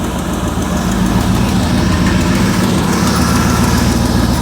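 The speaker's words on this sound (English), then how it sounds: "All right, so she's idling." A car engine idles loudly and steadily nearby after a Holley 4160 carburetor rebuild, a low rumbling putter with slight vibration and no talking.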